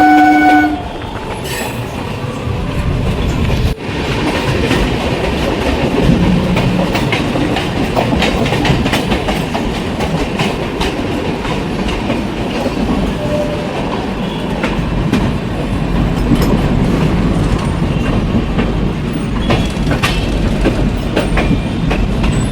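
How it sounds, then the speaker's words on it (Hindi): A MEMU train approaches head-on at Khagaria junction, heard from aboard a moving train, with a brief horn blast at the start and then a loud, continuous rail rumble and clatter. "सामने से एक मेमो ट्रेन आ रही"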